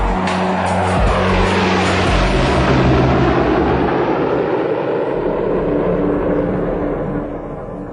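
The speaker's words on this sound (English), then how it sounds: "two B-2 stealth bombers are about to penetrate enemy airspace for the first time" A loud, sustained jet roar from a B-2 stealth bomber flying, broad and rumbling, holding steady for several seconds before slowly fading away.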